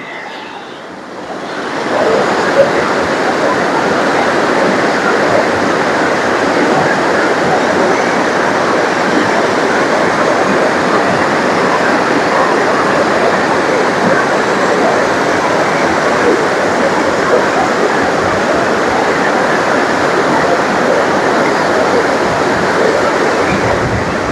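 Jellipara waterfall pours over rocks in a loud, steady, continuous roar of rushing water that holds unbroken from about two seconds in to the end, with no voices over it.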